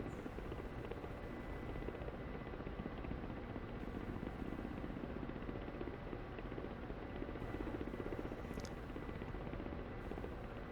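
Ka-50 coaxial attack helicopter in the DCS flight simulator, engines spooling up under added throttle: a steady, dense rotor and turbine roar fills the whole clip at an even level, with no talking.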